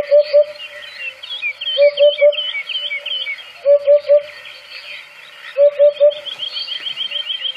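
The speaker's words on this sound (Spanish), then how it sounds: "la bubilla hace tres golpes. Tu, tu, tu." A hoopoe calls in repeated sets of three soft, evenly spaced hoots, four clear groups sounding close and alone against a quiet background with faint chirping higher up.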